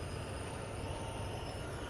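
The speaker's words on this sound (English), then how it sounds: "seems easy enough to get the train moving." A train in the video game Train Sim World 2, on Sherman Hill, starts moving, rumbling with a steady, dense roar and faint high whine, continuous and unchanging throughout.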